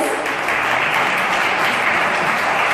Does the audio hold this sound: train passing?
no